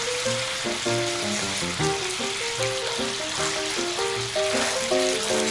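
BBQ pork sautéing with sugar and soy sauce, sizzling and crackling steadily in the pan while tonal background music plays over it.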